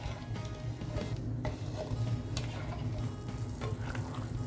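Melting sugar is stirred in a pan while it cooks toward a one-thread syrup for Rajasthani guna sweets, giving a steady close sizzle and bubbling with faint scraping throughout.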